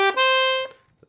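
A red-gold Hohner Concerto III piano accordion on its bandoneon treble register plays a brief reedy chord, held about half a second then released with a soft click, close-up and alone.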